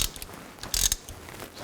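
A ratchet snugs up the fill plug on a 2000-2006 Chevy Tahoe rear axle differential, making a few quiet clicking pawl strokes close by.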